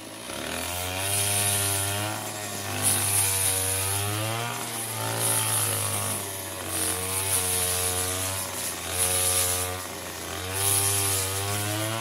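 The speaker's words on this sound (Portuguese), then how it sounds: "ele tá todo feliz que a roçadeira consertou" A repaired gasoline brush cutter runs steadily and loudly up close, its engine whine rising and falling in repeated revving surges over about twelve seconds with no talking.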